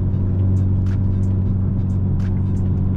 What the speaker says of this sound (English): There's a lot of pebbles up here, and I hear them freaking in the wheel wells